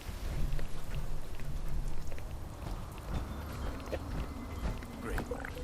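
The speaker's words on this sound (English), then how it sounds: "Now it's gonna be pouring down rain." Steady rain pours down in the video game Fallout 76, a continuous wash of downpour heard throughout with some talk and faint thumps over it.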